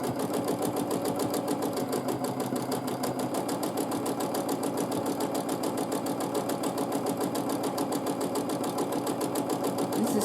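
Quilting a large quilt on a sewing machine produces a steady, close, rapid mechanical stitching hum with a regular needle pulse, unbroken for the whole stretch and without talk.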